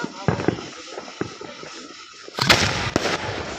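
New Year fireworks pop and crackle in a few sharp bursts from a string of firecrackers, ending in a louder burst of explosions, with voices faintly in the background.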